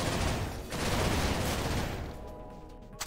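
Dense, continuous gunfire from a video game shootout, loud and sustained through most of the stretch, easing off slightly near the end.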